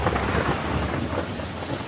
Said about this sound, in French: La pluie est sans fin.